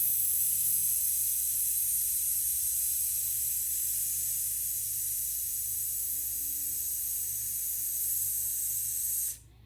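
Long, steady breath pushed out with a continuous airy hiss, held evenly for about nine seconds before cutting off abruptly at the end.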